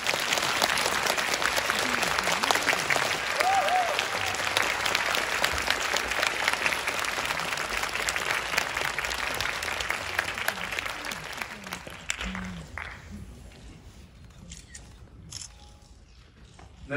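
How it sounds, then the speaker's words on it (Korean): A packed cinema audience at a film talk event applauds to welcome the producer and directors onstage, dense and continuous for about twelve seconds before thinning out and fading into quieter room noise. "큰 박수로 맞아주세요"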